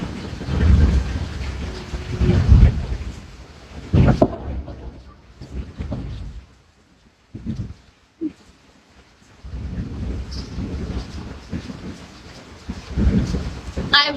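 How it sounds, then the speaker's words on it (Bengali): Heavy rain with rolling thunder, loud low rumbles swelling and fading in bursts over a rushing downpour, with quieter gaps between. "এত সুন্দর বৃষ্টি।"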